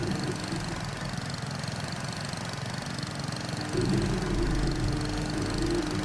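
A mower engine in the Farming Simulator 25 video game runs as a steady, mid-pitched mechanical hum that grows slightly louder and deeper partway through.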